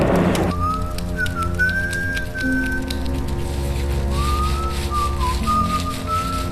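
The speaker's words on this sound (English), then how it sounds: "He might be whistling as he begins to lather you up." Someone whistles a slow, wandering tune up close over a steady patter like falling rain, with a short pause midway.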